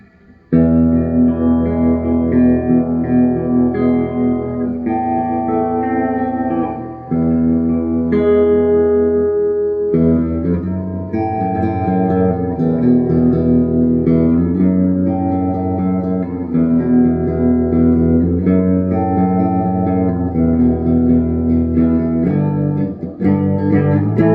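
A 2021 Gibson '70s Flying V electric guitar in olive drab played through a clean tone, chords and melodic lines ringing loud and close with some reverb, no talking.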